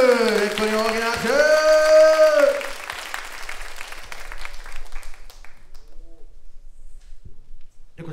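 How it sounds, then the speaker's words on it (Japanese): Applause from the crowd at a Japanese rap battle tournament semifinal follows a voice at the start and continues as a moderate, scattered clatter of clapping that gradually thins out. "レッコに大きな拍手"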